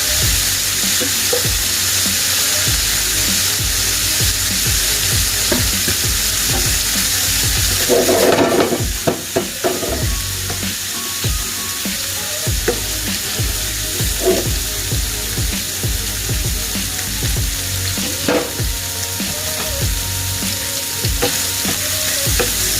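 Beef and freshly added onions fry in a hot pan for beef stroganoff, giving a loud, continuous sizzle with scraping stirs and clatters, plus one sharp louder burst partway through.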